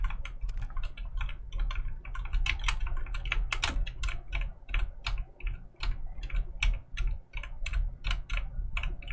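Computer keyboard keys, the WASD movement keys for a game, are tapped rapidly in an uneven stream of close, crisp clicks with no talking.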